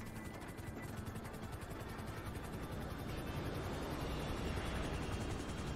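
A helicopter's rotor chops in a fast, even pulse over a loud engine drone, continuous and close, with no talking, in the video game GTA V.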